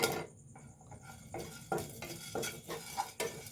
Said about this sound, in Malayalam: ചെറിയ ചൂടിലൊന്ന് ഇളക്കി കൊടുക്കാം